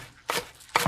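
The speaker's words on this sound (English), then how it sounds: "the first thing we're gonna do is chop our onions" Two crisp knife strikes chop onions against a cutting board, close and distinct with a brief gap between them.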